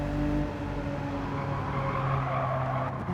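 A Porsche 930 race car in a racing video game holds a steady, droning engine note with tire skid and squeal throughout, close and constant for a few seconds.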